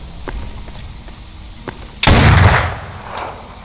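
A weapon fires in S.T.A.L.K.E.R. with the Gunslinger mod: a single loud, sharp shot with a booming tail that follows a stretch of faint clicks and handling noises.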